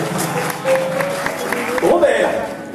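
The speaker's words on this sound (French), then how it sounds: "Ça s'applaudit." Theatre audience at a mentalist show applauding, a broad patter of clapping under talk and a brief tone, steady and moderately loud.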